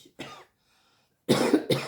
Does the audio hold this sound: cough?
yes